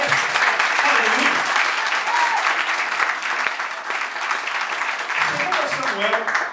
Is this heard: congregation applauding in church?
yes